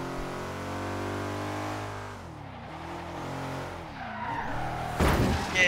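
Tires of a Porsche skid and squeal in a long drift in Forza Horizon 3, the engine note rising and falling beneath a sustained slide, then a sharp louder burst of noise near the end.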